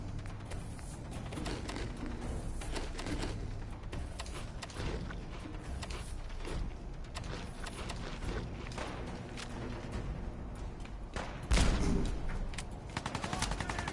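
Video game gunfire and grenade blasts from Fallout 4 crackle in dense, rapid volleys throughout, with one heavier explosion near the end, all at steady, moderate loudness.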